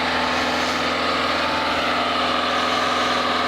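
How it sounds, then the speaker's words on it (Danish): Car engine at the exhaust as the accelerator pedal is pressed, a loud, steady mid-pitched engine drone with a rough rhythmic pulse, close by and without voices. "Jeg sætter mig ind igen. Trykker på speederen."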